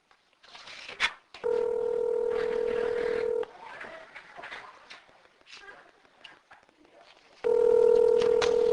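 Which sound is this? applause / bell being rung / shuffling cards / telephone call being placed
telephone call being placed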